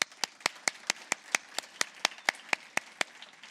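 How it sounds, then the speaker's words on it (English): One person claps alone at a computer science celebration event, about fifteen crisp, evenly spaced claps in a steady rhythm, close and fairly quiet against a silent room. "And I'm going to clap"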